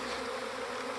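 A secondary honeybee swarm with a single queen gives a dense, steady buzz that fills the whole second. The hum is close and continuous, with no pauses and no voices.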